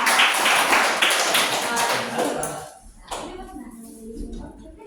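Students in a classroom clap for two classmates, a lively patter of many hands that fades after a couple of seconds, with a few scattered claps and voices afterward.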